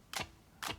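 Two sharp, crisp hand claps about half a second apart, bright and dry with nothing else around them.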